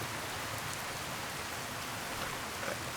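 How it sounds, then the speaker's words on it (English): Steady rain falls in the video game Fallout New Vegas, an even, unbroken hiss of drops on surfaces at moderate level with no voices. "And of course, it's raining again."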